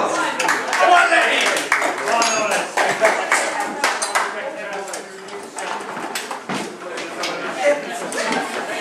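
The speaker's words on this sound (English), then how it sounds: "Give them a round of applause here now." An audience claps in a dense, steady round of applause at a Mountbellew vintage club demonstration of a Ferguson 20 tractor build, with a voice talking over the clapping throughout.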